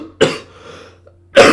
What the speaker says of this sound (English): I'm so sorry for coughing so much